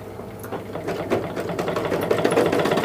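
A sewing machine stitches blouse lining in a tailoring setting, running with a steady, rapid mechanical whir and rhythmic needle clatter close by, with no talking.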